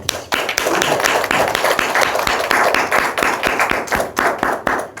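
A church congregation at a Wednesday worship service claps steadily in a dense, even burst of applause, close and lively, with no voices over it.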